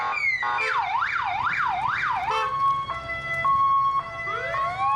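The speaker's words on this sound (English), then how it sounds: "The sirens were actually pretty cool." An emergency vehicle siren at an emergency services show at Brooklands, UK, wails up and down rapidly, then switches to a steady two-tone pattern, loud and close with no talking.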